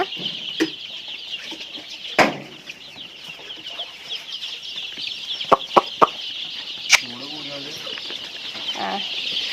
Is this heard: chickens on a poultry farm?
yes